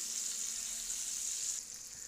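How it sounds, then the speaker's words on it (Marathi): Semolina-coated surmai fish frying over a low flame for a Malvani rava fry, giving a steady close hiss and sizzle with no one talking, easing slightly near the end. "मंद आचेवर तळायचे आहे आणि थोडीशी एका साईडनी भाजल्याशिवाय तिला हलवायची नाही आहे"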